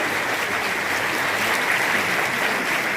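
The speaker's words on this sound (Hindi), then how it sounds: "अनुरोध करूंगी कि एक बार दमदार तालियों के माध्यम से आपका स्वागत करें।" An audience claps in a steady, dense round of applause to welcome a vocalist at a classical music program, filling the hall with no voices over it.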